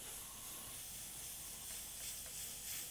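An airbrush sprays sepia brown paint to add drop shadows to pickup truck (ute) artwork, making a faint, steady hiss of air and paint throughout.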